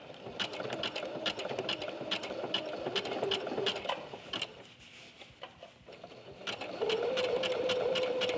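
A home sewing machine stitches steadily in a fast close hum, slowing briefly as it climbs over a bulky layered seam, then running on with a brief higher whine near the end.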